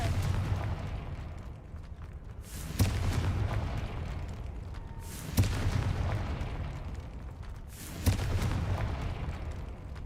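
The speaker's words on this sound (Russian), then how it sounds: "А, полезное заклинание взрыва." Three heavy blasts of the Confringo explosion spell in Hogwarts Legacy go off at roughly even intervals over a low, rumbling background, each a sharp boom that fades quickly.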